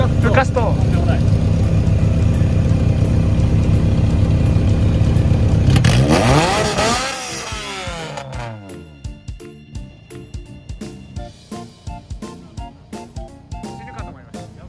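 A Honda Civic EF9 VTEC engine with a homemade straight-pipe side-exit exhaust screams at high revs, loud and close, for about six seconds, then drops off to a lumpy, pulsing idle with rhythmic clattering pops.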